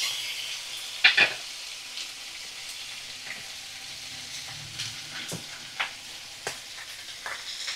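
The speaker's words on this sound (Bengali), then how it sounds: "এটা আলু দিয়ে আমি ভাজা করছিলাম" Potatoes frying in a pan in a home Bengali kitchen, a soft continuous sizzle with occasional clinks and stirring scrapes, fairly quiet and close.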